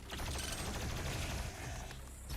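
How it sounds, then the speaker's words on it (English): A chainsaw rips into an enemy in a first-person shooter's Cultist Base level on Ultra Nightmare, a loud, continuous mechanical grinding roar that holds steady for the whole stretch with no voices. "So we're gonna chainsaw one of them just to"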